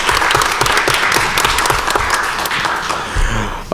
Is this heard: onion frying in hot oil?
no